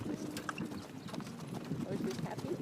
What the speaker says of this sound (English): we decided to take a horse and buggy ride.